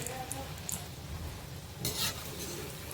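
Fritters made from mixed lentils with chopped vegetables fry in hot oil, giving a soft, steady sizzle with a brief louder crackle partway through and faint utensil clinks, quiet and close with no talking.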